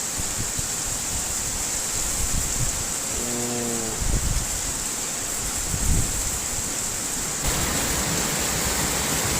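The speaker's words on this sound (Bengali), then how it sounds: "দেখেন কীভাবে মুসুল ধারে বৃষ্টি পড়তেছে" Heavy downpour in Japan, a dense, continuous roar of rain that stays loud and even, with a few faint thuds and knocks underneath.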